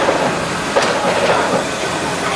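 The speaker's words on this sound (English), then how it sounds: "These tracks were not designed for our trams." A studio tour tram rolls along subway train tracks, a steady close rumble with faint rhythmic clacks and hiss.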